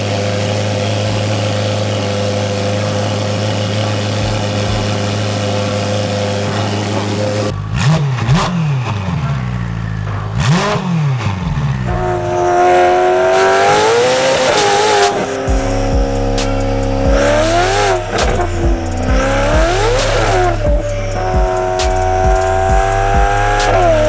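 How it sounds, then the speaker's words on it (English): A Ferrari F8 fitted with a full straight-pipe exhaust idles with a low rumble, then revs hard and pulls away with rising, aggressive engine notes and repeated throttle blips, loud and close throughout. "have you guys hear this F8, how insane it sounds"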